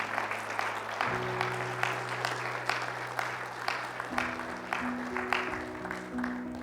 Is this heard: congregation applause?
yes